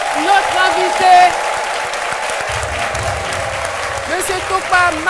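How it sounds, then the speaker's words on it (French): Studio audience applause greets a farmer guest arriving on a midday television set, a steady wash of clapping that runs the whole time under a presenter's speech. "On l'applaudit très fort, notre invité"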